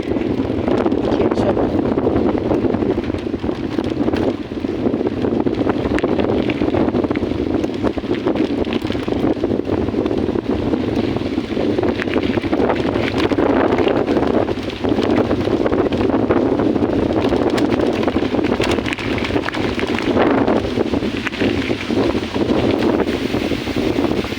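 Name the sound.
wind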